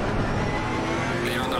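A race car in Assetto Corsa Competizione roars past on the left, its steady engine drone filling the clip with a voice partly over it.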